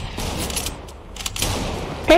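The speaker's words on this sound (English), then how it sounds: "he's shooting at me" Gunfire aimed at the player in Fortnite, a dense, noisy clatter of shots in rapid bursts with game sounds mixed in, and a voice cutting in briefly at the end.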